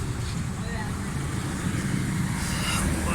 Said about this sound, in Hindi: ये देखें गाड़ी का बिल्कुल ज़बरदस्त साउंड है, किसी किस्म की मिसिंग नहीं है